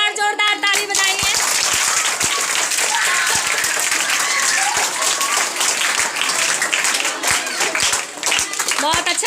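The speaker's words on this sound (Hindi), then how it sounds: "एक बार जोरदार ताली बजाइए।" A school audience at a Hindi Day programme claps loudly and continuously, with sharp individual claps standing out above the crowd and a voice heard briefly at the start.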